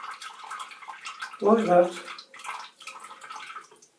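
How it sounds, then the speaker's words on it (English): A household tap dribbles a thin stream while a shaving brush is run through it, giving a brief, close splashy burst of water in the middle, with someone talking before and after. "turn the tap on, just a dribble, and I'm going to run the brush"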